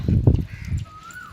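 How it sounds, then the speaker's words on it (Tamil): Crow cawing outdoors in Tamil Nadu, a couple of harsh close caws at the start followed by quieter noise, with no talk. "காக்கா வருதா பாரு"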